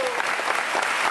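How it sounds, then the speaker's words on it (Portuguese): A congregation at a church Bible study in Barranquilla, Colombia applauds members from a visiting church, a short burst of dense, loud, continuous clapping. "Palmas fortes!"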